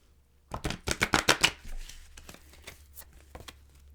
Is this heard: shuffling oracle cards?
yes